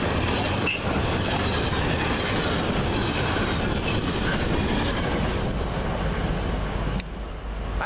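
Freight train 4O27 from Trafford Park to Southampton, hauled by class 70 locomotive 70014, rumbles steadily past at Sandbach with a constant loud roar of wagons and faint wheel squeal, continuing unbroken throughout.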